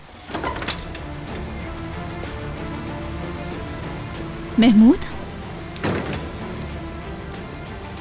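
Heavy rain pours steadily throughout, a dense continuous hiss, with a few brief voices cutting in over it.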